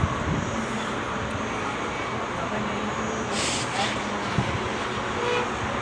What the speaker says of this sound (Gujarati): વિમાન જાય છે ને એ આપણા કોતરપુર એરપોર્ટમાં જશે